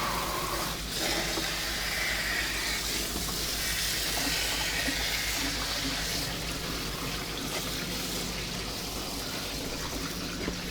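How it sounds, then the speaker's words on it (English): A koi pond pump runs with a continuous gurgling, sputtering rush as it draws air along with water, steady and fairly close. "You can hear the pump sucking a bit of air there now."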